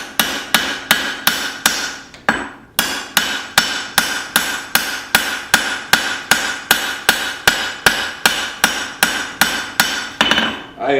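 A hammer striking a knife blade on an anvil during forging, about twenty-five sharp ringing blows in a steady fast rhythm with one short pause, loud and close with no talking.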